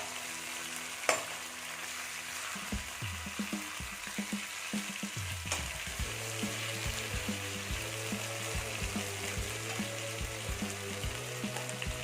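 Green pepper fish frying in oil in a pan after being turned over, giving a continuous low sizzle with a few clinks of a utensil and a steady tonal hum in the background.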